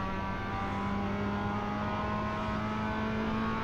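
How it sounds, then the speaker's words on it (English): A loud race car engine in the iRacing sim racing game drones steadily at a constant pitch, filling the whole stretch without a break and with no talk over it. "This car is loud."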